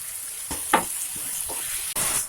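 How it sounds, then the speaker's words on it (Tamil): Ginger garlic paste and curry leaves sautéing in a pan for Chettinad mutton kulambu, a steady sizzle with a few scraping stirs, close by and moderately loud, no talking. "இப்போ நல்லா மிக்ஸ் பண்ணி கொஞ்சம் நல்லா வதக்கிட்டே இருமா."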